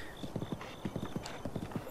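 A horse's hooves clip-clop in Zelda: Breath of the Wild, a quick steady trot of rhythmic hoofbeats, close and clear, with a faint tonal game ambience behind.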